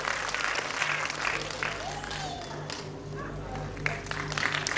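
Audience clapping at a Sargam Gurukul 2016 music school prize ceremony, honouring a first prize winner in group B, a steady roomful of applause with a low hum beneath and faint voices mixed in.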